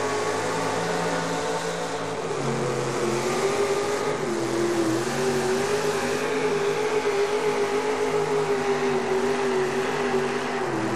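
A modified pulling truck called Dusty Rose roars through a truck pull at a 1987 USHRA motorsports event, its engine a loud, steady, unbroken drone that rises slightly in pitch midway, with no talk over it.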